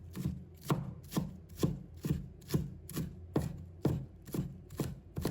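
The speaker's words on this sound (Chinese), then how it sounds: "再把红葱头拍碎，然后把它们切成末。" A kitchen knife chops smashed garlic and shallots into mince on a cutting board, about a dozen evenly spaced, firm thuds in a steady rhythm, close and alone.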